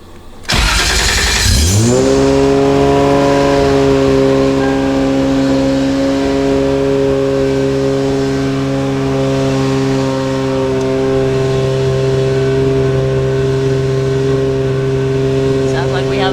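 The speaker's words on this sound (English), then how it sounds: "Let's start the car up." A twin-turbo 1JZ engine in a Nissan Skyline cranks and catches, then holds a loud, steady running drone with a few revs, close by and continuous.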